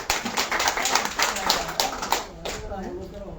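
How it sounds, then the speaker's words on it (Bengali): Audience applause at a reception welcoming the newly elected president of the Majidpur High School ad hoc committee: steady, dense clapping from many hands, with a voice speaking over it, thinning out toward the end. "সবাই একটু জোরে হাততালি হবে"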